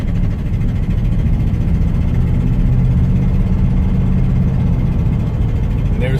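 Classic car engine driving and pulling through the gears, a steady loud low rumble that holds throughout without pause.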